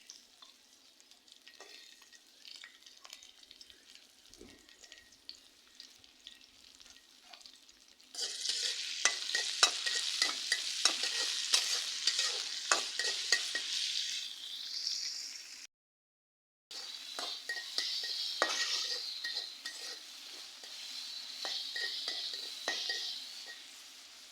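Chopped onions and green chilies fry in hot oil in a pan for a bottle gourd peel bhaji. A soft start gives way to a loud, steady sizzle with scraping stirs, a brief silent gap, then more sizzling.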